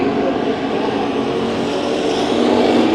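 Race cars running three wide in a heat race roar past together in a steady, loud, continuous engine drone with no talk over it.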